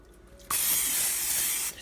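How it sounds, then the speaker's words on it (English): A short burst of olive oil cooking spray hisses loudly for about a second, starting abruptly after a quiet moment and then cutting off. "Use a little bit of olive oil cooking spray."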